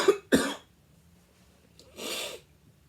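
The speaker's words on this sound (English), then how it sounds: "Just like that cough there." A person coughs twice in quick succession, close and sharp, followed a moment later by a softer, breathy exhale or throat sound, with quiet room tone in between.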